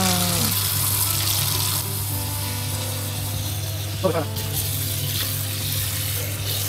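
Tap water runs steadily in a thin stream into a cooking pot in a home kitchen, a continuous rushing hiss with a brief clatter midway.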